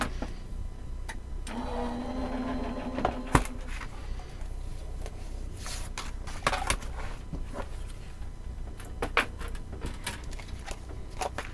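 A die-cutting and embossing machine runs with a steady mechanical hum and whir, broken by occasional sharp clicks and knocks, close by and without talk.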